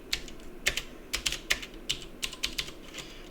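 Typing a command on a computer keyboard, quick irregular clicks of keys in short bursts, close and fairly quiet, with no voices.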